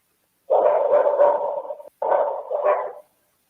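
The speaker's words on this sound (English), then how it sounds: "the dog's barking here" A dog barks in two sustained bursts separated by a brief pause, clear and fairly close in an otherwise silent early-morning setting.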